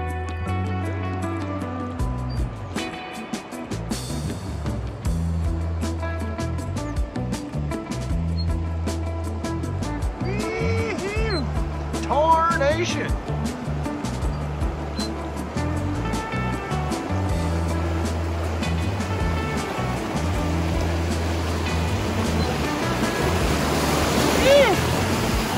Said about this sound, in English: we're just trucking along the river here and we got a little set of rapids